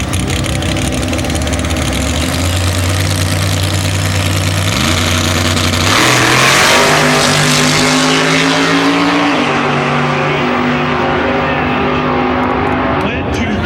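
Ford Mustang drag cars race side by side down a 1/8 mile strip, loud engines screaming with rising revs through gear shifts, a crowd-wide roar that swells and holds before fading near the end.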